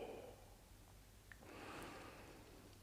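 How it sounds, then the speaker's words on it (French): A soft, slow exhale of breath during a guided meditation, faint and close, rising gently after a quiet pause with no words over it. "et je expire"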